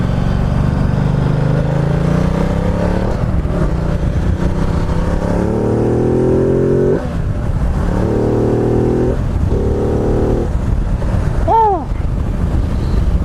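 A Ducati Multistrada 1200S motorcycle engine drones loudly through wind rush on the road, its pitch repeatedly falling in steps as it downshifts, with revs blipping and sweeping near the end.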